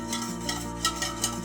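Spoon stirring dissolved jelly cubes in salt water in a bowl, a soft steady swirl with faint clinks against the side, close and quiet with no voices.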